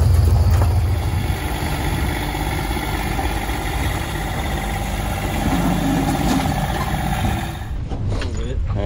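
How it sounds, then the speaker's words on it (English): A tractor engine idles close by beside a backyard race track, giving a steady, loud mechanical rumble throughout with a brief change near the end. "And up pulls our secret weapon. A tractor"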